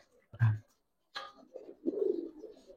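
Two Giribaz pigeons, khaki and silver, coo softly while handled at close range: a short throaty burst, a pause, then a longer rolling coo.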